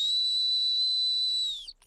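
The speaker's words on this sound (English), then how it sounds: "The sit whistle is about us blowing a whistle" A single sharp, high-pitched dog training whistle blast, the sit whistle, held steadily for about a second and a half, then cut off abruptly.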